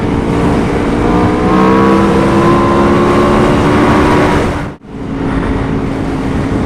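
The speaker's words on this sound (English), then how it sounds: "fourth gear, it just accelerates real nicely" A 2021 Aprilia RSV4 1100 Factory motorcycle pulls hard in fourth gear, a loud, close, steady engine roar with rising harmonic whine, cutting out abruptly for a split second near the end before resuming.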